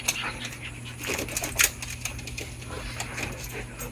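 Several excited dogs pant and shuffle close by in a busy household, with steady breathy panting, scattered small yips and thumps, and a brief louder burst partway through.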